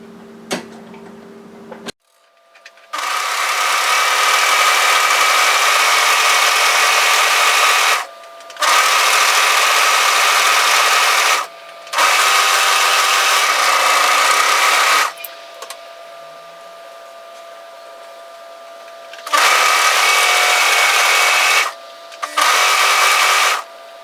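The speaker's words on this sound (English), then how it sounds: "what I'd like you to do is overlock both sides of the front, the straight edge" An overlocker serges the straight front edges of a roll-neck longline sweater in several loud bursts of rapid whirring, each running a few seconds and separated by short silent pauses, heard up close.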